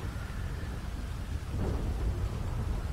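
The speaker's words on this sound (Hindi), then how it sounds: "मुझे ट्रेनर से भाई इतनी गंदी आवाज आ रही है ना बारिश की" Heavy rain and rolling thunder in GTA 5 tsunami mode, a steady dense roar of downpour with a low rumble swelling partway through, continuous and fairly loud with no voices.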